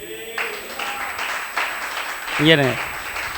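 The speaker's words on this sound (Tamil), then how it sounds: "ஒரு மகிமை செலுத்துறீங்களா அப்பாவுக்கு கைத்தட்டி?" A church congregation claps in praise, a rough wash of hands that rises and falls while a voice speaks over it.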